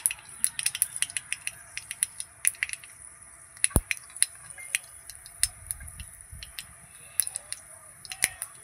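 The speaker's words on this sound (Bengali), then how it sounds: "তেল গরম হয়ে গেছে, এর মধ্যে আমি একটু সর্ষে দিয়ে দেবো।" Mustard seeds drop into hot oil while cooking Bengali besan dhokla. Sporadic sharp crackling pops sound close and irregular over a faint sizzle.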